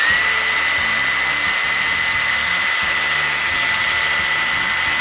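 A loud power drill mixing paint in a bucket whirs continuously at close range, a steady high-pitched motor whine with a churning low rumble beneath.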